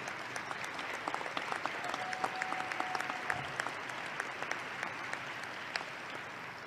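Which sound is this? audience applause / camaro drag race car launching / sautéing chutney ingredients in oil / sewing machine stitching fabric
audience applause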